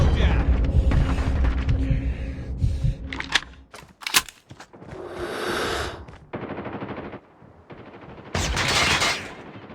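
Bursts of automatic gunfire and sharp impacts from Call of Duty Mobile, a shooter game on iOS and Android, loud and close, with broadband crackles, gaps of quieter ambience and a louder burst near the end.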